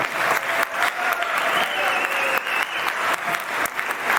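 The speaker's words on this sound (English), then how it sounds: "give a round of applause for Ms. Martinez Guerrero" Audience applause at a community program presentation, a steady, moderately loud patter of many hands clapping, with a few sharper individual claps standing out and brief vocal sounds mixed in.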